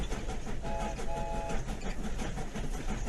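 An old train runs along the rails, a steady rumbling clatter with rhythmic clicking and a brief faint whistle-like tone, heard close from inside the carriage.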